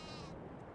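A single sheep bleats in a farming simulation game, a short wavering call that is close and moderately loud, with no talk over it.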